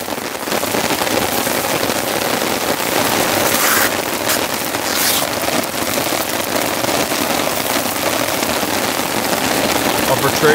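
Heavy rainstorm pours down on a tent campsite, a loud, dense, unbroken roar of rain with a couple of brief louder bursts midway and no clear talk.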